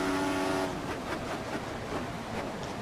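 Formula 1 race car engines from the F1 2014 video game at the Malaysian Grand Prix, a steady close roar of revving engines with a high whine that drops away early on.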